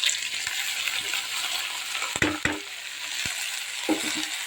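Horse gram frying in a pan with coriander paste, a steady close sizzle punctuated by a few sharp metallic clinks and scrapes of a stirring utensil, no talking.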